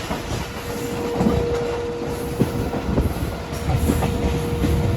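Train moving through a railway yard at a station, with a steady rolling rumble, rhythmic clicking of wheels over rail joints and a thin metallic squeal running underneath, heard fairly close.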